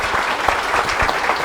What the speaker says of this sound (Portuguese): Uma salva de palmas para a Heloísa